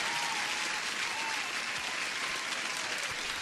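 Steady, dense applause, much like a stock sound effect, runs evenly from start to end without a break.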